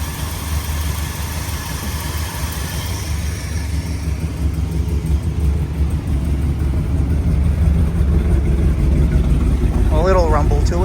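A 1967 Pontiac GTO convertible with a four-speed idles with a steady, low exhaust rumble, close and continuous, while someone talks over it.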